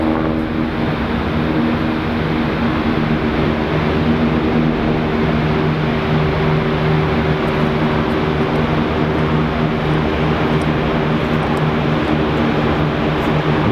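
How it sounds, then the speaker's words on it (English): Constant low droning hum of distant helicopters overhead in Juneau, Alaska, steady throughout with a faint rumble and no speech. "Here's the helicopters."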